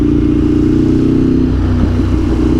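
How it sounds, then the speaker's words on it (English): A Ducati 848 Evo superbike's engine rumbles loudly and steadily up close, a deep throbbing twin-cylinder drone with a brief clattering shift in note partway through. "I really love the soundtrack of this motorcycle"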